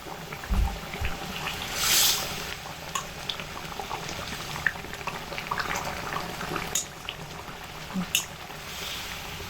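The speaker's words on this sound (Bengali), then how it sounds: "অল্প পরিমাণে মরিচ গুঁড়ো দিয়ে এক মিনিট সময় ধরে ফুটিয়ে নিয়ে এটাকে নামিয়ে দেবো" Egg curry simmering after chili powder is stirred in, a moderate bubbling, gurgling boil with scattered pops and a brief louder burst near the start.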